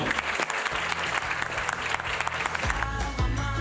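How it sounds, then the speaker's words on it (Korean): An audience applauds to open the 2020 KWC award ceremony, sustained crowd clapping that stays loud throughout while music with a steady beat plays along underneath. "여러분들 박수와 함께 시작을 열어주십시오"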